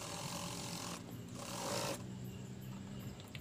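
Sewing machine double stitching a sleeve seam, a faint rapid mechanical ratcheting and whirring that runs throughout the short stretch with slight bursts and pauses in intensity.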